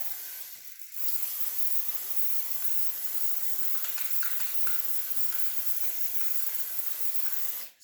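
A spray can hisses steadily and closely as paint goes onto a stained ceiling tile patch. The hiss runs for about seven seconds after a short pause at the start.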